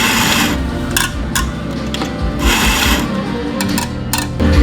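A coffee grinder grinds beans to a medium-to-fine setting in a café, with a continuous loud, gritty mechanical grinding and crunching. Brief clatters punctuate it throughout, with no voices.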